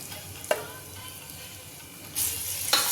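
Hot oil tempering with curry leaves sizzles quietly in a pan as turmeric goes in, with short bursts of spatter and stirring and a louder crackling flare toward the end.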